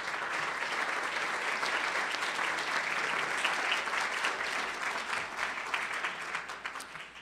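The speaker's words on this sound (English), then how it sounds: "Please join me in a warm round of applause for all of them." A steady, sustained round of audience applause for sponsors at a City Club gathering, dense clapping from a large crowd heard somewhat distant and even for about seven seconds, thinning slightly at the end.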